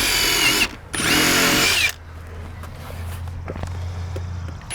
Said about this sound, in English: I pre-drill the 4 corners.